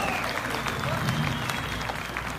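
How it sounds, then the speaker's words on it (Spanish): Crowd applauds a mariachi band in a steady, dense burst of clapping, with a voice speaking over it and some background music. "Vamos a escuchar aplauso para mariachi sonido de México"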